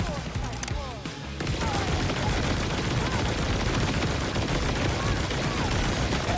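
Dense, continuous gunfire in the Borderlands 4 video game, a loud barrage of rapid shots and impacts layered over game effects, with a brief lull near the start before the firing surges back in full.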